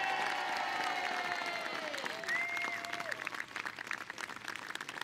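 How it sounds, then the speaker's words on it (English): Outdoor crowd cheering and clapping at a trebuchet show at Warwick Castle, saluting the trebuchet master and crew; steady applause with scattered whoops and a few high, whistle-like shouts rising over it. "loudest cheer for our trebuchet master Colin and his hard-working crew!"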